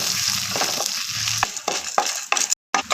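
Coriander seeds, cumin, dried red chillies and chana dal dry-roasting in a pan, with a continuous crackling rattle and repeated scraping stirs, close and fairly loud, with a short gap near the end.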